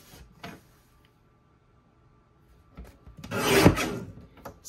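A paper trimmer cuts scrapbook paper for a page kit: a quiet rasp near the start, then a longer, louder slicing stroke toward the end, close by.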